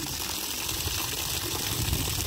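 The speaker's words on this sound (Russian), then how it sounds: "Сейчас немножко вода сольется." Steady rushing water drains from a hose, a close, even gushing flow with no pauses.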